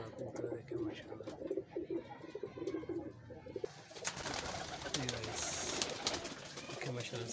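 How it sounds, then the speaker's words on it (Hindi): Old Rampuri pigeon cooing in repeated soft low coos, with people talking over and around it and some background bustle. "सखी वाला पुराना कबूतर है ये रामपुरी"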